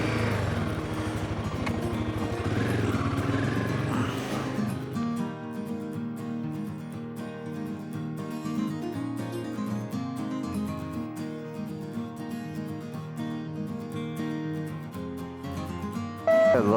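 A motorcycle is ridden along a road, its engine a steady droning hum that holds close and loud throughout with a shifting pitch, and wind buffeting in the first few seconds.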